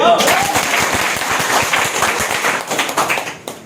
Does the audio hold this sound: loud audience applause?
yes